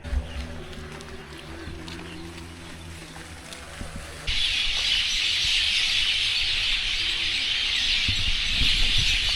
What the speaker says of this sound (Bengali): অনেক দিন পর সন্ধ্যাবেলা এরকম পাখির কিচিমিচির আওয়াজটা শুনতে পারলাম